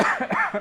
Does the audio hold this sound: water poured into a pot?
no